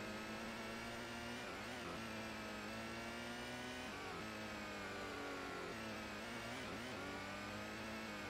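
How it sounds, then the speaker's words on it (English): Toyota Supra with a heavily tuned engine revving in the racing game Gran Turismo, a steady synthetic engine drone with pitch rising and dropping through several gear shifts, loud and continuous with no talk. "Feel the power of a fully operational Supra."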